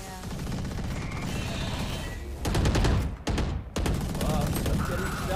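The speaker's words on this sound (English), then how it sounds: "Oh, I'm getting shot." Rapid gunfire striking the player in a team-based online shooter game, a dense burst of repeated shots that swells loudly midway, with brief gaps, over steady game noise and some talk.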